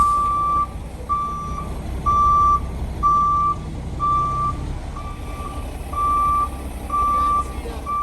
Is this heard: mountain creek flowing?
no